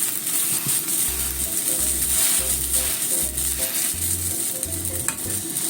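A chive-heavy Korean pancake (chijimi) fries on low heat in a pan after being flipped, with a steady sizzle and a repeating low pulsing hum beneath it, and no speech.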